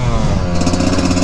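A Yamaha YZ144 two-stroke dirt bike fitted with a thumb throttle blares at full throttle, loud and close, its buzzing engine tone climbing steadily throughout.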